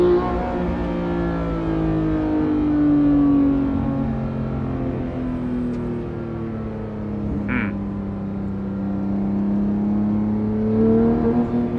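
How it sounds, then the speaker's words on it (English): A Porsche 991.2 GT3 with a manual gearbox and 4-liter engine revs steadily from inside the cabin, its rising and falling engine tones sustained and loud throughout, with no talking. "Yeah, this 4-liter sounds way different."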